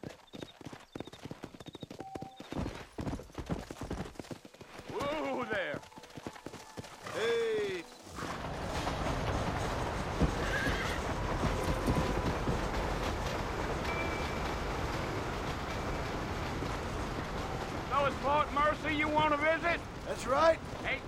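Horse hooves clip-clopping at a steady trot in the video game Red Dead Redemption, with a brief whinny early on and people talking over the hoofbeats.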